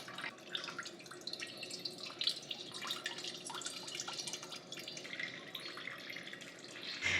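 A turkey baster drips while kiwi wine is being checked for fermentation, giving faint irregular water drips and small splashes over a quiet indoor background.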